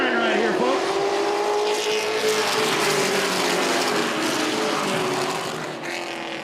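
Race trucks in a CTS Affordable 250 race roaring past on the track, a loud continuous engine drone with shifting pitch as the pack goes by, under a commentator's voice.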